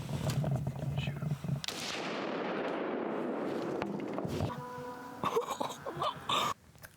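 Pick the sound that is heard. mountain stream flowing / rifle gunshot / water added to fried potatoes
rifle gunshot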